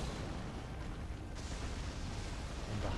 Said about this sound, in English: Still gonna be a little explosion.